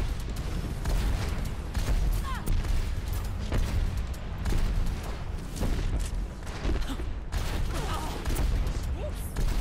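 Gunfire rattles through an Overwatch match: bursts of rapid shots and booming impacts crowd together, loud and close, with occasional voices mixed in.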